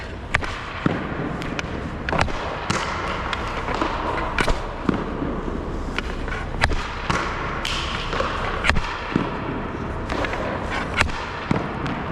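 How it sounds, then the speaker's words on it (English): Hockey pucks shot low into the corner and striking a goalie's blocker on the ice, giving a series of sharp, irregular thuds and cracks over about twelve seconds amid arena ambience. "I'm going to do some shooting. So these ones, I want you to pop these low into the corner off your blocker."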